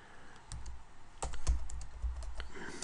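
Quick bursts of keystrokes on a computer keyboard while entering text, including backspacing over mistakes, irregular clicks close and fairly quiet, with no voices.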